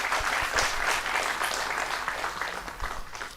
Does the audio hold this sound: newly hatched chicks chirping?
no